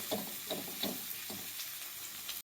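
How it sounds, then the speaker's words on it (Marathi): Onions fry in hot oil in a pan, a soft, steady sizzle with a few faint stirring scrapes early on, quiet and close, then a brief cut to silence at the end. "कांदा चांगला भाजून घ्यायचा आहे तांबूस कलरवरती"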